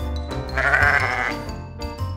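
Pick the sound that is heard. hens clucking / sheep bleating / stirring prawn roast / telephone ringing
sheep bleating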